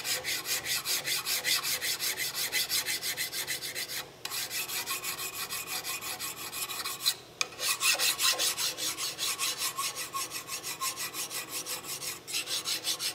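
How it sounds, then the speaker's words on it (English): A hand file worked flat across a brass part makes rapid, regular rasping strokes close up, keeping an even back-and-forth rhythm with a couple of brief pauses. "I'm still using the flat side of the file"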